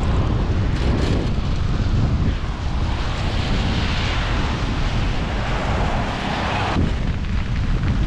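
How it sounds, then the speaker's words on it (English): Strong wind roars and buffets steadily across the microphone, a loud, continuous rushing with no voices, filling the whole stretch. "Oh my gosh, is it windy?"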